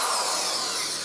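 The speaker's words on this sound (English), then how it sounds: "So I started off by lightly drilling where I think his eyeballs should be." A power drill whirs continuously at close range for about a second, drilling into a wooden nutcracker figure's eyes, with a steady high-pitched grinding buzz.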